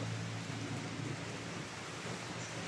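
Steady rain falling in a video game, a dense even hiss of drops with a low rumbling undertone, constant and fairly close, no voices.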